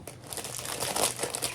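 Plastic Dollar Tree packaging crinkles and crackles steadily as it is opened, close and fairly loud with a dense run of small crackles throughout.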